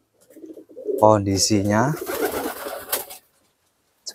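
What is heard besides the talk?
pigeons cooing in their cage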